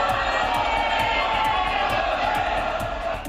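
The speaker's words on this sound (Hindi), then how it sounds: "हर तरफ महाकाल के जयकारे गूंजते रहे।" Dense roar of a huge crowd of devotees chanting and cheering praises of Mahakal at the Mahakal temple in Ujjain, loud and continuous with rhythmic pulses running through it.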